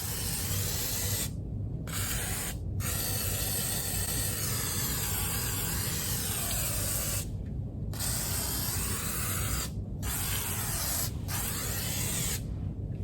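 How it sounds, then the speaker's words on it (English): An aerosol can of WD-40 hisses in long, close bursts with a few brief pauses between sprays, spraying old residue on a CNC machine during teardown. "I'm just going to spray some WD-40 on it"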